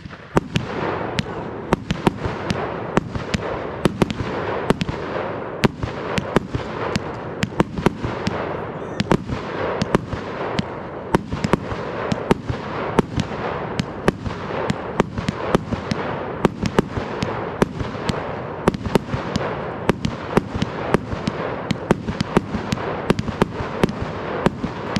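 A 318-shot Corona Killer firework cake goes off at New Year, sharp bangs firing in a fast, steady barrage one after another, loud and sustained without pause.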